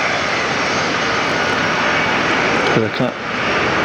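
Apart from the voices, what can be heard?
airplane touching down at Fort Lauderdale airport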